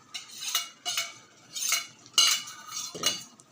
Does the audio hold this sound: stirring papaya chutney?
yes